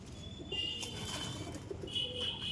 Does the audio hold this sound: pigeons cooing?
yes